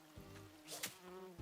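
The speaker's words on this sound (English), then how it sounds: "I missed the bee." A bee in Animal Crossing New Horizons gives a short, faint buzzing drone with a couple of brief swells, no voices over it.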